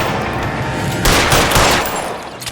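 Rapid automatic gunfire erupts in an L.A. Noire shootout, a loud sustained burst of overlapping shots following a stretch of quieter game ambience, with no talk over it.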